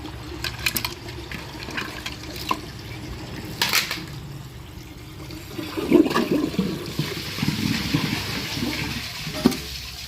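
Glacier Bay toilet tank slowly refilling after a flush, a steady hiss and gurgle of running water with brief splashes and clunks, close and continuous with no voices.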